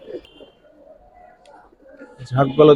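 Giribaz pigeons, a Bengali flying breed in silver, khaki and military colours, coo softly through the clip, and a louder burst of cooing or calling comes at the end, mixed with a voice.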